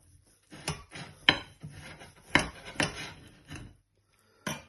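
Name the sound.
knife cutting a slice of homemade ham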